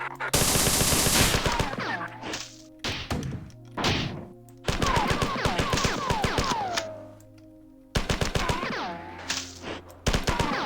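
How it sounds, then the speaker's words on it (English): Grenade launcher fire in the classic first-person shooter game Marathon: loud, rapid repeated bursts of launched rounds and blasts in several volleys, separated by brief pauses, with dense impacts and ringing tails. "this grenade launcher's a bit cringe"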